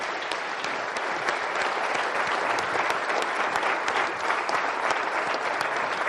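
A large audience at a Detroit business announcement breaks into sustained, dense applause, an even wash of clapping without any talking.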